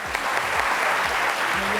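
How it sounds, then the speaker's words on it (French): Studio audience on a French daytime television set applauds for a guest named Eva in a short, dense, continuous burst of clapping. "On peut applaudir pour Eva,"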